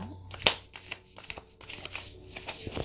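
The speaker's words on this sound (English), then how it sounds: "I'm going to try shuffling one more time." Tarot cards being shuffled by hand in a quiet room, a run of soft papery riffles and slaps, with one sharper snap near the start and fainter shuffling after it.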